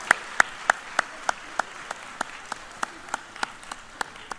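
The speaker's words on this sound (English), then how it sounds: "Can we have another round of applause for our amazing performers?" Applause for student performers at the IC3 Institute graduation, heard as a steady run of about fourteen evenly spaced, sharp claps that stay fairly faint and even throughout, with no talking.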